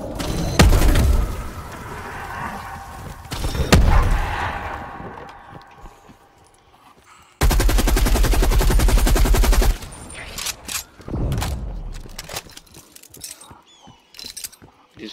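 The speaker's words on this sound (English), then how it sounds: "Guns do nothing against them." Gunfire in a shooter video game, with sharp single shots, a sustained burst of rapid automatic fire and a scatter of quicker cracks and thuds, loud and close, with occasional voice in the background.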